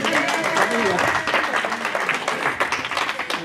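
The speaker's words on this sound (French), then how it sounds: "on peut l'applaudir s'il vous plaît" Guests at a pastor's 60th birthday party applaud, a short burst of clapping that runs beneath and alongside talking voices.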